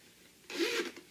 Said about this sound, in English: Zip up your zipper.